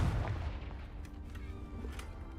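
A fire blast spell, Confringo, is cast in the Hogwarts Legacy video game: a sharp explosive boom at the start that fades into a rumbling tail, with no talking.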